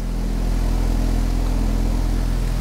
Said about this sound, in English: We got the tumbler going right now.